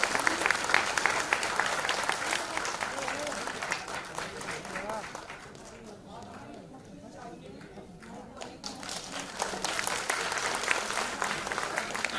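A crowd applauds as a singer is welcomed on stage at the Major Nirala trailer launch, with dense continuous clapping that thins briefly midway and then swells again, with talk over it.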